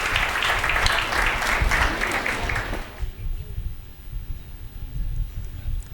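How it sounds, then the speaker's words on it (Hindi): An audience at a live comic poetry recital gives loud, dense clapping that lasts about three seconds and then fades out, leaving a murmur of crowd noise and scattered claps. "एक बार जरा जोरदार तालियां।"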